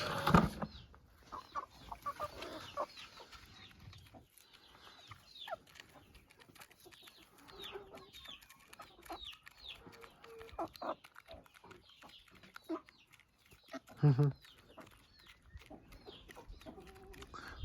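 Bantam Cochin pullets clucking outdoors in soft, scattered, fairly quiet bursts, with a few louder calls now and then among low farmyard background noise.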